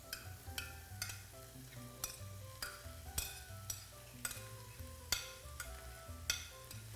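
Soft cooked vegetables being returned to a pan and stirred, with repeated sharp utensil clinks against the pan over a steady low sizzle, close and moderately loud, no talking.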